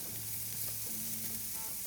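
Steak sears in a hot pan with a continuous, close hiss and crackle, steady and fairly loud, with no voices over it.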